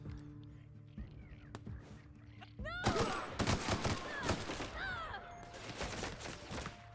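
Gunfire from an enemy shooting at the player in The Outer Worlds, a burst of sharp shots in irregular clusters that grows denser partway through, with game music and bird-like calls under it.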